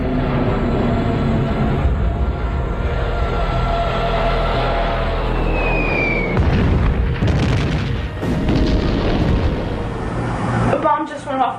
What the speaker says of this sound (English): Hitler orders the bombing of Warsaw.